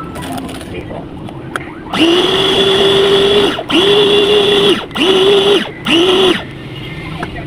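A kitchen blender whirs through meatball dough mixed with egg white and water in four loud, steady bursts of motor drone, each starting and stopping abruptly, with quieter room sound before the first burst.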